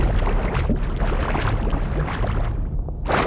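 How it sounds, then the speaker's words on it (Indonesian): A cartoon anglerfish, a lamp fish, gives a steady, loud, rumbling churn of broadband noise lasting about three seconds, like a deep underwater growl, with no voices. "Hei, itu suara ikan lampu."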